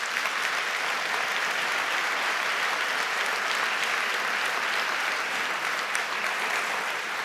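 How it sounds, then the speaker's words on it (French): Audience applause at the end of a conference on artificial intelligence and new technologies, a steady, dense wash of many hands clapping that holds at an even level from start to finish with no talk. "On peut les applaudir très fort."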